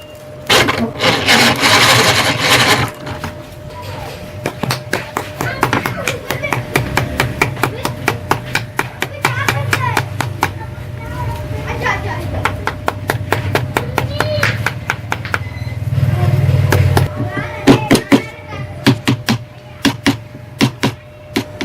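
Wooden mallet tapping down copper winding wires on a stabilizer transformer, a steady run of sharp wooden knocks, close and fairly loud, continuing throughout with some rubbing and handling noise between strikes.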